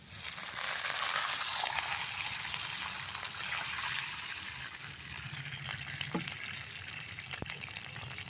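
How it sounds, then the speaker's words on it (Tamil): Water pours steadily in a continuous gush, a close, rushing flow filling a cooking pot. "இப்போ நம்ம தண்ணி ஊற்றிக்கலாம் தேவையான அளவு."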